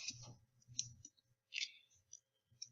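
Soft, sharp computer mouse clicks come in a few separate taps, very quiet over near-silence.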